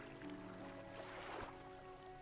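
A fishing boat's engine in the video game Dredge, a low steady droning hum with faint watery texture, quiet and continuous without voices.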